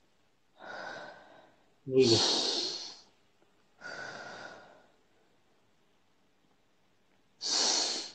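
Slow, deep breaths in and out during a calm Russian-language counselling session, with several long airy exhales spaced a second or two apart and a brief spoken word among them.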